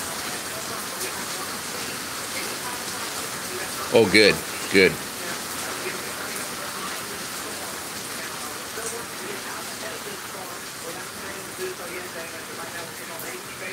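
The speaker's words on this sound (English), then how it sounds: "we're definitely getting some rain right now" Steady rain falls during severe weather in Moore, Oklahoma, a continuous even hiss behind a brief spoken exchange near the start.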